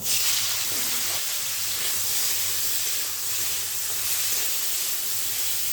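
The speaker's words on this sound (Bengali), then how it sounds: "তখন এর মধ্যে কাঁকড়াগুলো দিয়ে ভেজে নিতে হবে" Crabs frying in very hot mustard oil in a wok, a loud continuous sizzle and hiss with steady spitting throughout, close up and without talk.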